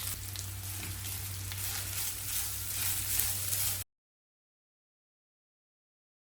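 Cashews, grated coconut and green chilies sizzle and fry in a pan for Chettinad white chicken kurma, a steady crackling hiss that stops abruptly partway and leaves silence.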